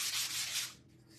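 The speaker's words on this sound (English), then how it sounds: "sand that black piece just a little bit" Sanding block of 220 grit rubbed over a black craft piece, a close, steady scratchy rasp of strokes that fades out near the end.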